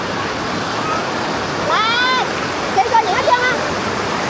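Rushing waterfall and fast-flowing stream at Thác Hòa Bình in Đồng Nai, a steady close roar of churning water that fills the whole stretch, with brief bird-like chirps and a few splashes breaking through midway.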